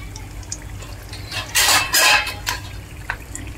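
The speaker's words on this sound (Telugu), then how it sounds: "చూడండి, ప్లేట్ మూత వేస్తున్నాను." A metal plate lid set down over a pan of frying fish eggs in a home kitchen, giving a couple of clattering metallic clanks amid soft background sizzle.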